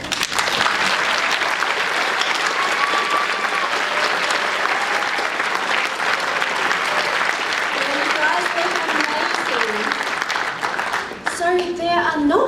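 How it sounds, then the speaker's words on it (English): Convention hall audience at a Zelda 30th-anniversary panel at PAX Aus 2016 applauds cosplayers, loud sustained clapping from a large crowd with cheers, easing off near the end as a voice begins. "can we all give them a round of applause?"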